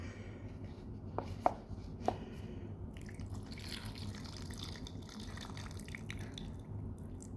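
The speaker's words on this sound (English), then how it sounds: "we pour the hot water up to the inner line" Hot water poured into an instant toppoki cup, a soft continuous trickle and splash after a few faint clicks, quiet and close.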